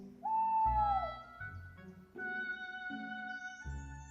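An old owl at dusk over the savannah gives a single clear, loud hooting call at the start, then falls away into a soft tonal musical bed.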